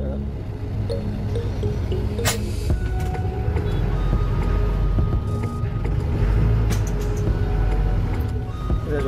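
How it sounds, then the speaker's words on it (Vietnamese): Ollin 500B truck, after four years of use, driving along the road, with a continuous low engine rumble and road noise, fairly loud and steady, and a voice talking over it. "Bây giờ chúng ta có thể vận hành chiếc xe này lăn bánh trên đường"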